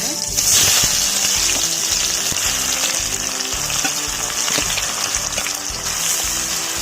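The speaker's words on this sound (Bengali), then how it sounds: "তেলটা গরম হয়ে গেছে, আমি দিয়ে দেবো এখানে তেজপাতা, দিয়ে দেবো এখানে গোটা জিরে, দিয়ে দেবো এখানে আমি পেঁয়াজ কুচিয়ে রাখা" Bay leaf, cumin and chopped onion fry in hot oil with a loud, steady sizzle and crackle up close, while music plays underneath.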